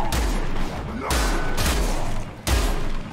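Rapid bursts of gunfire from the video game Perish, the player circling and shooting backwards; loud repeated volleys in three or four clusters, dense and continuous with no voices.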